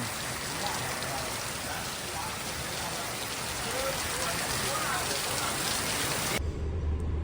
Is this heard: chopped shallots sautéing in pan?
no